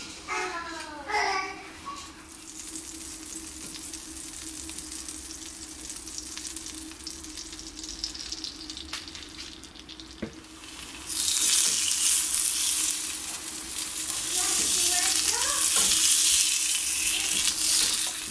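Blueberry pancake batter sizzling in oil or butter in a hot pan, a steady hiss that grows louder partway through, with a voice and other talk over the quieter opening.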